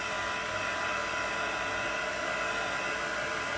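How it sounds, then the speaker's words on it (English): A handheld heat tool blows hot air over ink on watercolor paper, a steady loud whooshing hiss that stays constant and close without a break, with no talk. "So here comes the heat tool."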